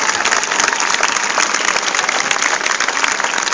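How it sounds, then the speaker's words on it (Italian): Loud, dense crowd applause at an outdoor address by the mayor during the Luminaria di San Domenico festival in Praiano, a continuous close wash of many hands clapping with no voices over it. "veramente meritano forse l'applauso più grande"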